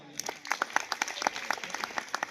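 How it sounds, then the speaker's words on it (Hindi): An audience at a government school's annual function claps to welcome the chief guest, a short burst of scattered, fairly close applause. "मैं चाहूंगा सभी उनके स्वागत के लिए एक ताली जरूर बजाएं।"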